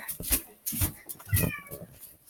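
A house cat meows three times in quick succession indoors, fairly close and moderately loud, with short pauses between the calls.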